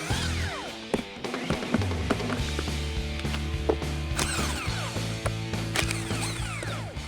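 Ratchet working on the bolts of a power steering pump bracket on a 1977 Ford F-150, with repeated close clicking strokes in a steady rhythm over a faint mechanical hum.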